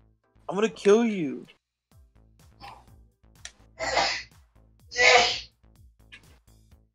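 A person sneezes twice in a row, sharp loud bursts close to the microphone, with other people talking and exclaiming around them.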